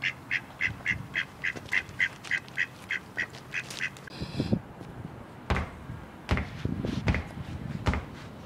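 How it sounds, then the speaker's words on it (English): A run of about fifteen evenly spaced, close duck quacks comes first, then several more scattered quacks and knocks follow, with no talk. "they're actual ducks."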